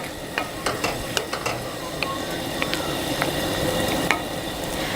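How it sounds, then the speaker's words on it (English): A spoon stirs tomato pasta sauce in a pot on a camping stove outdoors, with scattered clicks and scrapes over a constant low hiss and rumble at moderate volume, with no talking. "let's give that a little bit of a stir"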